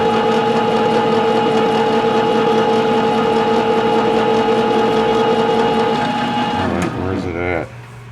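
Lathe cutting a chamfer on the edge of a homemade .030 flux-core MIG welding nozzle, a steady tonal machining whine with harmonic lines running several seconds before the cut changes pitch and stops near the end.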